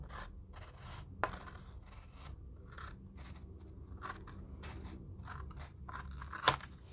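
Plastic parts from an Airfix Avro Vulcan B2 model kit being snipped off the sprue, with a couple of sharp close clicks among softer crunching cuts over a low background hum.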